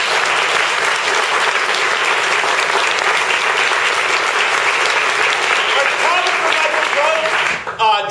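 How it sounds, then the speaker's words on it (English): Sustained applause from an audience at a season-announcement event for a theatre company, steady clapping throughout with a short drop near the end. "So let's give her another round of applause."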